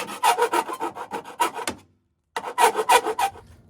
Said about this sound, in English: Now we're gonna file it with this and see if we can make it a little smoother.